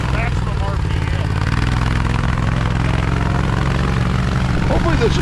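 An Argo amphibious ATV runs on a cold, snowy beach with a steady, loud, low engine drone that holds throughout and never clearly surges into a rev.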